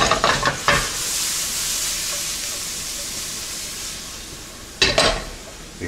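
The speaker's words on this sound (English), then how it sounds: "Let that butter melt." Butter for spicy garlic parmesan chicken wings melts in a hot pan with a loud, steady sizzle and hiss. Brief clattering stirs sound at the start and again near the end.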